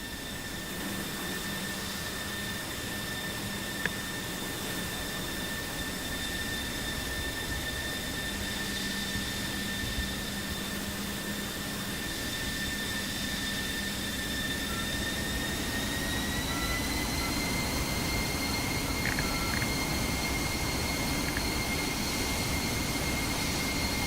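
Steady jet aircraft engine roar inside the DCS flight simulator game, a continuous loud broadband drone with high whining tones that rise in pitch partway through as power builds during takeoff.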